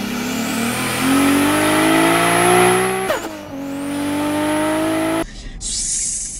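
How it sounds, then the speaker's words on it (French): A new Land Rover Defender's engine revs hard under acceleration, with a high steady turbo whistle rising above the drone, then a brief shift dip before the engine climbs again. "Vous entendez le turbo siffler comme si c'était un turbo de Supra de 2000 chevaux"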